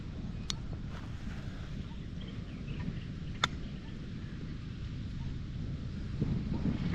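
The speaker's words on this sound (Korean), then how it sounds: "아, 아 여기는 바람 불어가지고" Gusty wind rumbles across a golf course, a low continuous rush with microphone buffeting, a couple of sharp faint clicks and rising louder gusts toward the end.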